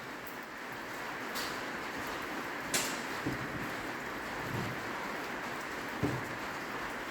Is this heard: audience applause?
no